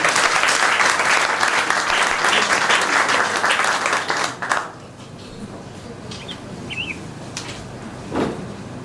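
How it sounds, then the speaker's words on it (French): Graduation ceremony audience honoring certificate recipients breaks into dense, loud applause for about four and a half seconds, then it stops abruptly, leaving a quiet room with faint scattered sounds and a brief voice. "Elle mérite des applaudissements."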